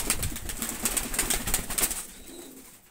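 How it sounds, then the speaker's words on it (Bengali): A pair of Oman Teddy Baby pigeons sit close by, giving soft cooing and wing rustles in a quick run of pulses, then falling quiet for the final second. "তো কবুতর দুটো দেখেন পুরো ব্যান্ড হয়ে দাঁড়াবে একেবারে, দুইটা কবুতর"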